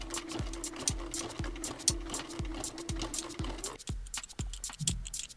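A sewing machine running a zigzag stitch along a jeans hem, its needle thumping in a steady, even rhythm of about two strokes per second with a continuous motor hum beneath, close and alone.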